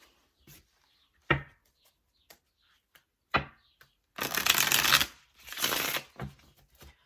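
A deck of tarot cards is shuffled in several riffling bursts, the longest two near the end, between sharper taps and card handling, close and louder than the surroundings.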